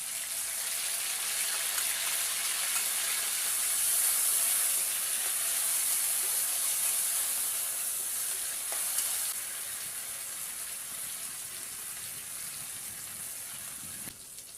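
Ground spice paste hits hot oil in a frying pan while making dhokar jhal, giving a continuous, even, moderately loud sizzle and hiss that holds steady for many seconds, easing slightly toward the end, with no talking.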